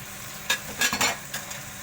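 Raw lamb dropped into a sizzling masala for aloo gosht potato and lamb curry, brief bursts of frying crackle and scraping stirs over a steady low hiss.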